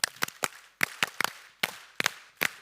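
Crowd at the WSC 2022 Dubai Global Round opening claps together in a specific repeated rhythm, sharp unison claps falling in clusters of two and three, clear and unaccompanied by voices.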